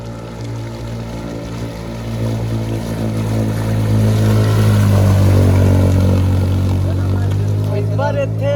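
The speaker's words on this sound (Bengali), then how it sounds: "সেই পরিমাণ ক্ষেত্রে একটি বাইক জলের উপরে আসছে" A motorcycle pushes through a waterlogged road in Assam. Its engine note swells and grows louder over the middle seconds as it approaches, with faint voices appearing toward the end.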